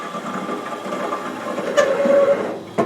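A band saw cuts through wood to rough out a shape, a steady close whirring hum with a rising squeal as the blade bites, ending in a sharp click.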